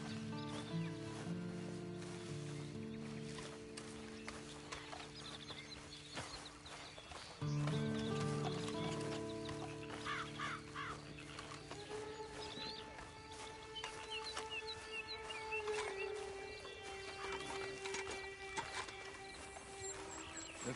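Red Dead Redemption 2 horse in game: clip-clop hooves and horse sounds under a steady layer of background music and ambience. A louder bump comes partway through, and the sound stays continuous and moderately faint.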